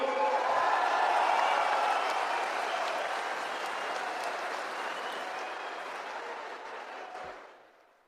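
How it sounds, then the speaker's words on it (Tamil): A hall full of attendees at a political party's booth committee seminar in Tamil Nadu claps in a broad, roaring wave of applause that holds steady and then fades away at the end. "13 மாவட்ட செயலாளர்களுக்கும் அவர்தம் தொண்டர் படைக்கும் ஒரு அரங்க நிறைந்த கைத்தட்டல்களை நாம் தந்தாக வேண்டும்."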